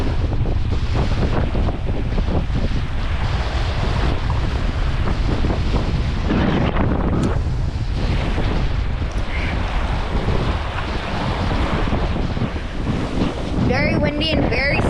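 Strong wind buffets the microphone in heavy, gusting roars throughout on a lake shoreline in the North Maine Woods, with a faint wash of water underneath.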